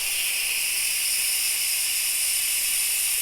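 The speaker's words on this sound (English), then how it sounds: "We're going to turn that knob from sealing to venting. Now there's a lot of steam that's going to come out" Steam vents from a pressure cooker's release knob as a steady, continuous high hiss, unbroken throughout and moderately loud.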